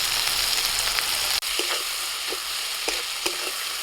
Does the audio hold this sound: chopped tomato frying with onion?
yes